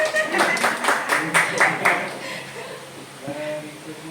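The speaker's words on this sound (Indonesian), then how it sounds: "tepuk tangan." An audience at a school session claps hands in a brief burst that fades after about two seconds, followed by quieter room sound and some talking.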